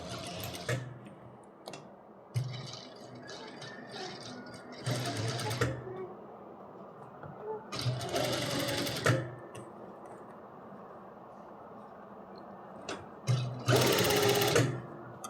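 A sewing machine runs in several separate bursts while stitching a round neckline through two layers of fabric, with faint talk and handling sounds in the pauses between runs.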